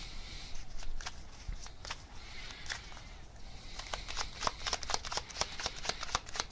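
Tarot cards being shuffled by hand, a steady run of soft papery riffles and flicks that grow denser and crisper toward the end, close and fairly quiet with no talking.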